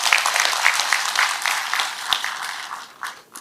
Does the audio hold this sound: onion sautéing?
no